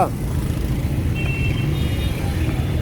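Street traffic at a zebra crossing, with cars and motorcycles idling and moving past in a steady low rumble that stays even throughout.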